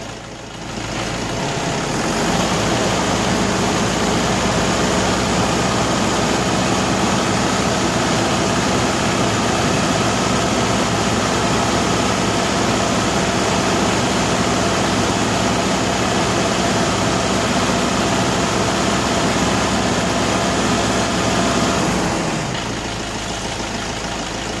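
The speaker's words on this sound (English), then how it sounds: "so when I rev up the engine" A car engine runs under the hood during an AC system recharge, a loud, steady, close droning hum that holds evenly for over twenty seconds before easing off at the end.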